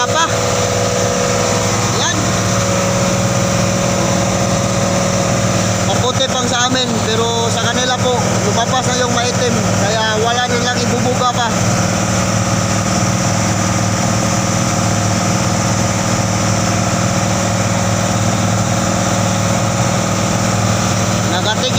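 Outboard engine of a small passenger boat racing ahead of three other boats, a loud steady drone held at high revs with a brief burst of other noise midway.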